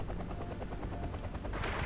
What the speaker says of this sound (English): And a helicopter as well.